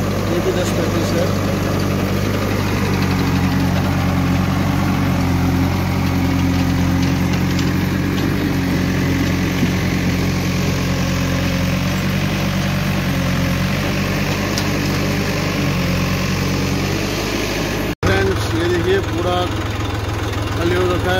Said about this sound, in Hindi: तीन ट्रैक्टर चल रहे हैं हमारे यहाँ पर